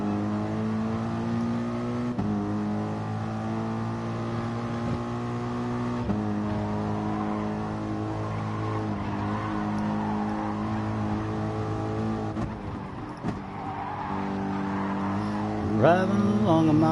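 Race cars in the Gran Turismo Sport video game drive continuously, engines droning and shifting pitch as they accelerate and brake, with a brief sharp swell near the end.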